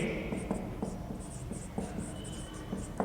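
Quick scratchy strokes of writing on a board during a Class 12 physics lesson on electric fields, sounding as short irregular bursts over a steady room hiss with no speech.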